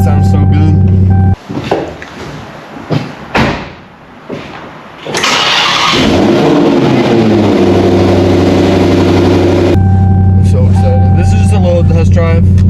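A 1025 hp Dodge Demon 170 fires up with a loud, close roar, then settles into a heavy, steady rumble. Voices speak during the start-up.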